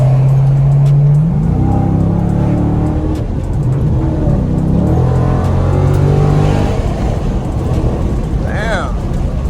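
A Dodge Scat Pack widebody with a rough engine that needs exhaust work revs and pulls away, a loud engine note rising in pitch over about ten seconds while people talk nearby.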